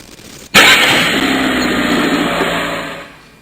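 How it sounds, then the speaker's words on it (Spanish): A car engine, used as a sound in a children's sound-matching game, starts abruptly and runs at a loud, steady idle for about three seconds before cutting off. "Coche."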